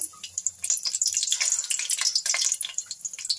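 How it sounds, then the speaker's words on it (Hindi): Potato chicken keema kababs coated in vermicelli fry over a low flame, giving a steady, close crackling sizzle with bright spattering pops and no voices. "सेवइयों का कोट करने के बाद अब हम इसको स्लो फ्लेम पे फ्राई कर लेंगे।"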